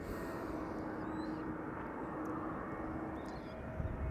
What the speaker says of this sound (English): KLM flight 1602 arriving from Rome, an A321neo